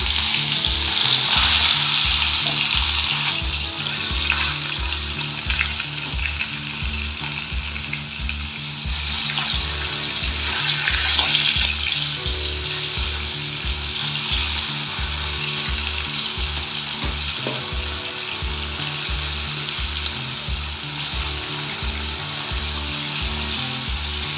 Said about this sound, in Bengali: তেলটা গরম হয়ে গেছে এবার আমি মাছগুলোকে দিয়ে দিচ্ছি